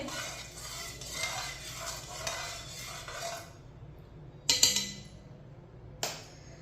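A metal spoon clinks and scrapes in a cooking pot as salt and oil are stirred into water for moong dal khichdi, a steady run of stirring followed by a few sharp, separate clinks.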